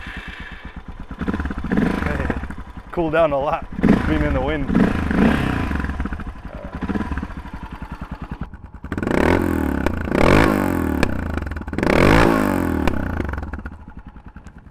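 A Suzuki DR650 dual sport motorcycle with a full FMF exhaust system idles with a deep, rapid thumping pulse close by, loud and steady, with blips of revving under someone talking.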